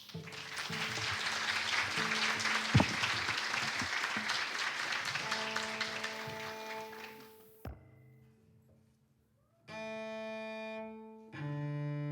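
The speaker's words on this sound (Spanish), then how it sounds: "Un fuerte aplauso para los músicos, por favor." Applause from an audience greeting musicians at a book presentation concert breaks out loud and sustained for about eight seconds, then fades, followed by sustained instrumental tones after a short quiet gap.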